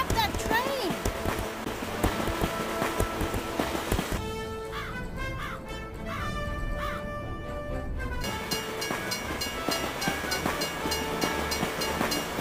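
Train in the Toy Story 3 video game: a continuous rolling rumble with rhythmic clatter and metallic tones, with a brief shift in the middle, mixed with game music and effects.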